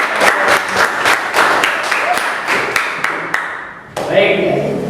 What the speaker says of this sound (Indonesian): Tepuk tangan dulu untuk sekarang